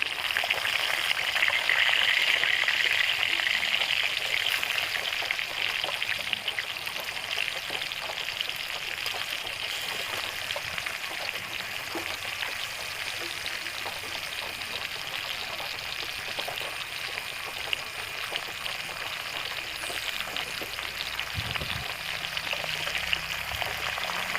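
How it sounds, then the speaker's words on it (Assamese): Pieces of pointed gourd (potol) fry in hot oil in a pan, giving a steady, close crackling sizzle that runs throughout, slightly louder at the start. "এনেদৰে বাকী থকা পটল কেইপিচো ফ্ৰাই কৰি ল'ম।"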